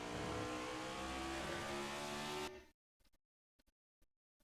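NASCAR NextGen race car in a sim-racing game at COTA, a loud sustained engine roar braking and downshifting, cutting off abruptly to near silence with a few faint ticks afterward.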